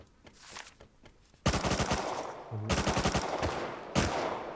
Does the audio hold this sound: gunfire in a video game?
yes